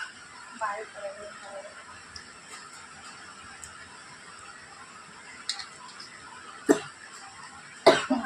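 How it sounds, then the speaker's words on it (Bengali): A person eating mango and drinking warm milk at home lets out two short, sharp coughs near the end, close to the mic. Before that there is a quiet room with faint murmuring. "কাশি হচ্ছে কেন আমার?"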